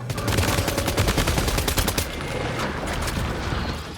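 Rapid automatic gunfire from a weapon in the video game Death Stranding 2, a dense burst of sharp repeated shots for about two seconds that then fades into a rumbling, noisy tail.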